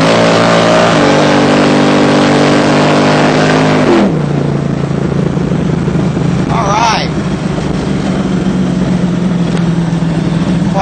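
A 1964 Chevy Nova pro street race car engine roars at high revs, shifts down and keeps droning loudly, with a brief rising whine partway through.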